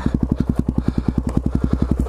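Motorcycle engine idling in neutral, a loud, close, steady rapid chugging pulse throughout with no voices.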